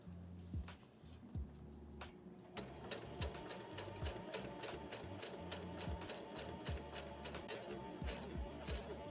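A clean, freshly threaded Singer Heavy Duty sewing machine runs smoothly. After a few scattered starting clicks it settles into a steady, rapid, even stitching clatter, close and continuous.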